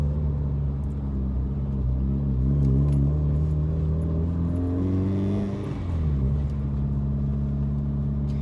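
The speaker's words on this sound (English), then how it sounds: "this is a second gear hit from about 2000 RPM, foot all the way to the firewall" A turbocharged 750 wheel horsepower Mitsubishi Evo 9 accelerates hard in second gear from about 2000 RPM at full throttle, a loud continuous engine drone whose pitch climbs steadily over several seconds, with no talking.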